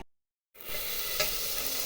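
Taro leaves mixed with other ingredients stir-frying in a pan, a steady close sizzle that starts abruptly after a brief silence and holds evenly, with a soft stir in the middle.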